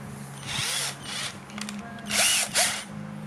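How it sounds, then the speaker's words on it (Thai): Short bursts of a power driver tightening a nut while a servo is assembled onto its mount, several whirring runs with brief pauses, fairly close and alone. "แล้วก็ขันน็อตนะครับ"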